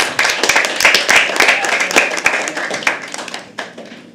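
An audience at a live poetry open mic at The Habitat applauds after a poem: dense, loud clapping from many hands that thins and fades toward the end.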